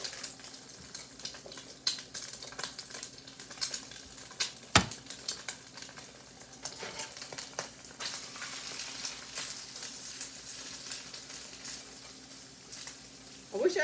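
A raw egg fries in a pan with leftovers such as sausage, giving a continuous soft sizzle with scattered crackles and pops throughout.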